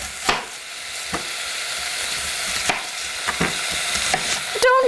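Onion frying in a pan alongside beef for a stew, a steady close sizzle with a few sharp utensil clinks and stirring scrapes scattered throughout.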